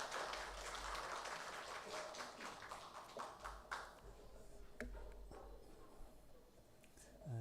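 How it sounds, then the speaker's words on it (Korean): A church congregation gives a round of applause for the choir at a Sunday service, a dense wash of clapping that fills the space and slowly thins out toward the end. "성가대원들에게 다시 한번 감사의 박수하겠습니다"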